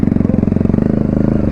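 Motorcycle engine running loud and close with a steady, rapid pulsing beat, as if held at revs before a wheelie attempt, with no speech over it.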